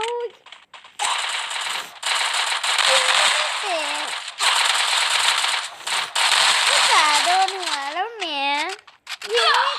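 Rapid automatic gunfire from the mobile shooting game Free Fire, in a 4v4 ranked match, rattles in dense bursts for most of the stretch, loud and close, with a player's voice talking over it.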